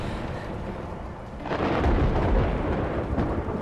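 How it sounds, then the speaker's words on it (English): Thunder rumbling in the video game A Way Out, a low, continuous roll that swells loudly about halfway through and keeps booming to the end, with no talk over it. "Let's time it with the thunder."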